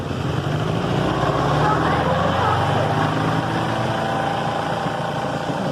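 A Pyle portable washing machine's spin dryer spins with a steady, close motor whir and rumble that holds throughout.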